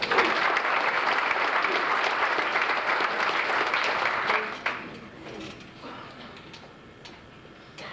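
Audience applause at a 1998 Casey County FFA banquet, a dense steady burst of clapping from a crowd that swells loud for several seconds, then drops away and thins to scattered claps.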